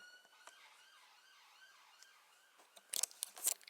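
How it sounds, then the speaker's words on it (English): Emergency vehicle sirens wail outside in the distance, a faint, steady rising-and-falling tone that lasts throughout, followed near the end by a few louder, sharp clattering noises close by. "Sirens today."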